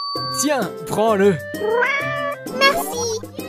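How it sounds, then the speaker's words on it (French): A cat meows repeatedly, close and clear, with several drawn-out, rising and falling calls in a row, plus a steady low hum in the background. "Regarde, c'est mon chat."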